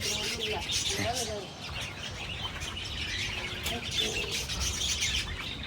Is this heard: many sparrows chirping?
yes